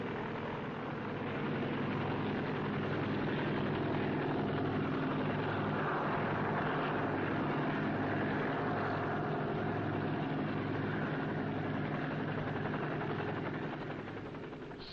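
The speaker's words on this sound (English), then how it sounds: "Wind machines, however, stir up the air and will prevent the frost from spoiling the fruit." Orchard wind machines stir the air against frost, a steady droning engine-and-rotor roar with a low pulsing beat, constant and fairly loud throughout before easing off at the end.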